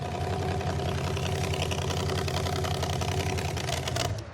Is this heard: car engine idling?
yes